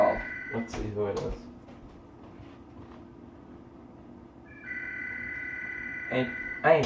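A telephone rings with an incoming call in a home kitchen, two short trilling rings at the start and end with a faint electronic tone between, while a person talks nearby.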